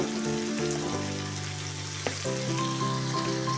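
A spoonful of ghee sizzling into a thick banana flower curry cooked with fish head, a soft, even frying crackle heard close by under quiet background music, with one brief knock partway through.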